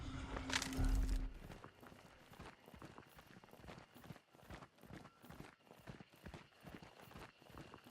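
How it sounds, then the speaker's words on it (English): Footsteps in the video game Hunt: Showdown, a steady rhythmic run of crunchy thudding steps, close and even-paced, preceded by a brief loud burst of game noise. "I have the sound of my own footsteps warning me of people nearby."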